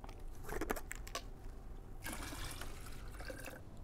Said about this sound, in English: pour it into the Geyser system